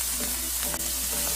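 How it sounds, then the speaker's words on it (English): Green bell peppers sauté in a hot pan, a steady bright sizzle with soft stirring scrapes and a faint clink, close and continuous with no talking. "you just mix those up, let them brown up, saute them"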